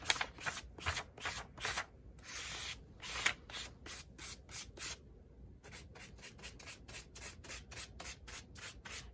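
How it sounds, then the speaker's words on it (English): Distress Oxide ink is scraped across a thin Bible page in quick, rhythmic rasping strokes, close and crisp, repeating steadily with one short pause and no talk. "So I'm just scraping it, making sure I'm getting the page completely covered."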